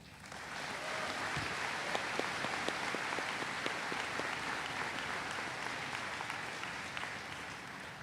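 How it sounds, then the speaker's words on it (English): Commencement crowd at a high school graduation applauding parents, teachers and families: a broad, steady wash of clapping from a large audience in a big space, sustained and even throughout. "every parent, guardian, teacher, faculty and staff member, mentor, sibling, and friend deserves a round of applause."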